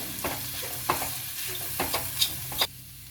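Bottle gourd and groundnut curry ingredients sizzling in a pan with a spatula scraping and stirring every half second or so, close by, no talking.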